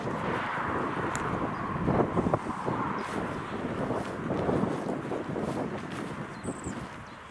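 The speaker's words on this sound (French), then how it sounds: "Il y a du vent. Il y a vraiment du vent." Strong wind buffets the microphone on an exposed farm, a steady broadband roar with gusts swelling around the middle of the stretch, loud and continuous with no talking.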